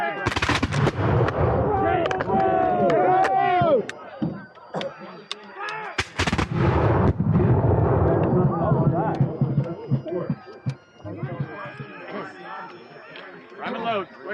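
Historical reenactment musket fire by companies at Mount Vernon, with sharp, booming volleys and scattered shots over loud shouted commands and crowd chatter, the reports cracking out close at hand at irregular intervals.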